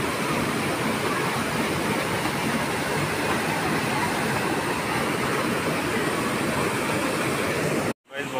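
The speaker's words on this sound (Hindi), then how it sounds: "बहुत ही निर्मल और स्वच्छ पानी गिर रहा है" Clean, cold water pours steadily at the Vaishno Devi pilgrimage site, a loud continuous rushing wash that fills the whole stretch without pause before cutting off abruptly near the end.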